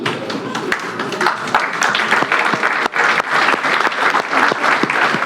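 Diners at a Freedom Day dinner at a club on Santa Maria island give warm applause, with dense crisp hand claps and a few sharp individual claps standing out over the steady roar.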